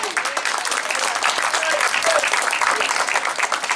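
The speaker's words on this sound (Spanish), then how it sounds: "Denle un fuerte aplauso al Señor." Congregation applauding during a Spanish-language church service in La Torocagua, Honduras: dense, steady clapping fills the whole stretch with a few voices calling out over it.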